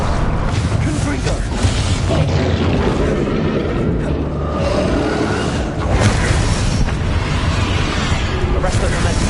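Spell explosions from the Confringo fire spell in the Hogwarts Legacy video game, loud booming bursts over dense, continuous combat noise, with game music and voices throughout.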